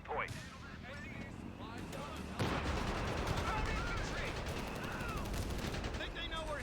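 An artillery barrage in Company of Heroes 3 pounds steadily in the distance, dense rumbling explosions and crackling fire sustained throughout, with a sharper impact partway through and a voice talking over it.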